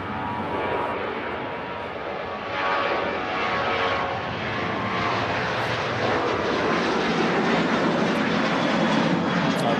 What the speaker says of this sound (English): Great shot there of the Ryanair 737-800 heading off to Eindhoven